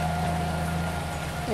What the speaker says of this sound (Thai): โอ้โหฝนตกแบบนี้